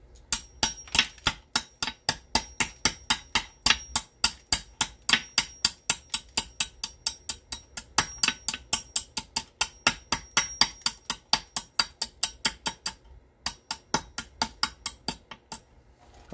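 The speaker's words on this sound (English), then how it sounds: "So we'll trim it up this way." Flint gunflint being knapped and trimmed, a rapid series of sharp, close stone-on-stone taps, roughly fifty clicks in steady rhythm with a brief pause near the end, with no talk.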